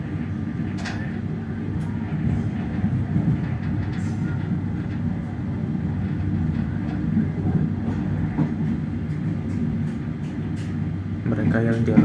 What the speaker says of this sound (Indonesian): Kita melewati Wesel X Stasiun Jatinegara.